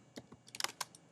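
A few quick keystrokes on a computer keyboard, entering text into a photo-novel layout, sound as a short, uneven burst of close clicks with no voice.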